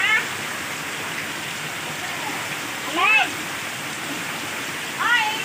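Flood water rushes steadily in a continuous broad roar after an earthquake, with voices speaking over it at moments.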